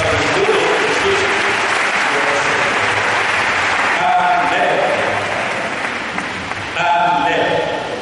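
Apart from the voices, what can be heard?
audience applause and cheers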